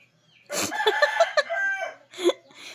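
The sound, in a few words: chickens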